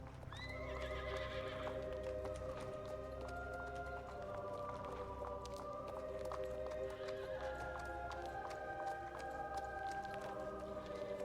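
A horse in the Star Stable Online video game gallops with steady clip-clop hoofbeats under game music, a sharp whinny breaking out near the start.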